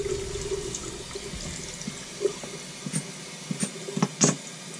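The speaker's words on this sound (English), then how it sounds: "typically I rinse them off with hot water." Hot tap water runs into a bathroom sink while Norton Crystolon sharpening stones are rinsed of mineral oil, a steady splashing stream broken by a few clunks and sharp knocks of stone against the basin.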